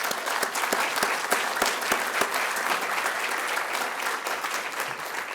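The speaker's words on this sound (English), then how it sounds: "if you would just give them a round of applause for their great service" An audience applauds wounded warriors, sustained dense clapping from a large crowd that holds steady and loud throughout.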